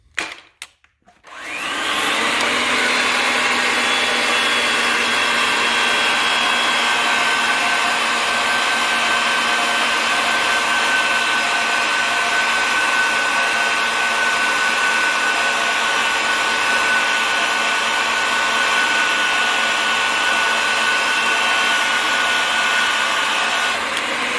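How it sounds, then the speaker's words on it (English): A Ridgid 300 pipe threading machine runs steadily while cutting threads on pipe, a loud continuous motor whine with a grinding tone that starts after a brief pause and holds unbroken to the end, with no talk. "Now we're going to thread."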